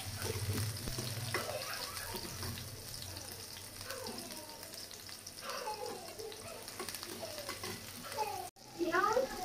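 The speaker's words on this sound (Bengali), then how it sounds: "তো ওই যে টমেটো আলু দিয়ে ভেজে নিচ্ছি" Tomatoes and potatoes frying in oil in a pan give a steady, close sizzling hiss with occasional stirring. A voice talks over the sizzle.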